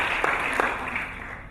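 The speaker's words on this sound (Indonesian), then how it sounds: "Tepuk tangan buat IBL Biochemistry." Audience applause at a seminar, a broad hiss of many hands clapping with a couple of louder claps early on, fading slightly toward the end.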